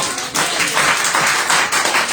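A church congregation applauding together at a French-language service, a dense, steady wave of many hands clapping that fills the space, loud and close with no one speaking over it.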